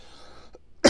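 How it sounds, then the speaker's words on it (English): A single sharp, loud cough from a person ill with flu and chest congestion bursts out near the end, after a near-silent stretch with a faint earlier throat sound. "you're going to hear me coughing throughout."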